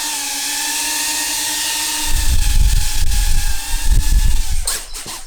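A quadcopter drone lifts off from a quiet room. A steady electronic whine comes first, then about two seconds in the motors spin up into a loud, rough buzzing roar that holds steady with a few fluctuations.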